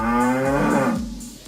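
A cow moos from a little way off in a forest, one long, drawn-out harmonic low, fairly loud and clear, tapering off at the end.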